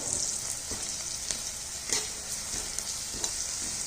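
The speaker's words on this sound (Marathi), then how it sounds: "इथं मी अद्रक लसूण पेस्ट घेतलेली आहे ती ह्याच्यामध्ये आपण टाकून घेणार आहोत आणि ती पण छान अशी परतून घ्यायची कांद्याबरोबर" Ginger garlic paste frying with onions in a pan, a continuous bright sizzle with occasional stirring scrapes and taps, close up and steady.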